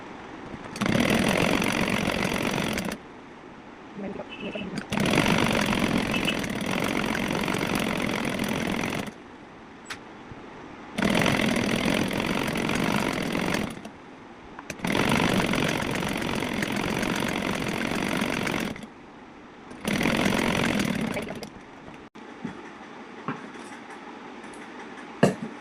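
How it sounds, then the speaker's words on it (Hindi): A sewing machine stitches across the elastic waistband of a pajama in several bursts of steady whirring, each a few seconds long and separated by short pauses, with soft handling clicks at the end. "प्लास्टिक के ऊपर से, नेफे के ऊपर से सिलाई लगा देंगे"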